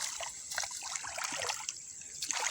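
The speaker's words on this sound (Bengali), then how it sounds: "টাকি মাছ অলরেডি ফালাফালি করতেছে" Snakehead fish thrash in shallow water inside a China doari trap net, giving a steady wet trickling and splashing with small sharp flicks throughout, close and moderately loud.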